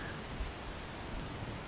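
Steady, dense rain pattering on pavement in the horror video game Where I Belong, a constant close wash of drops with no other sounds.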